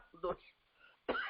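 A preacher in a Spanish-language church sermon gives two short, sharp coughs a second apart, close and fairly loud, with no speech over them.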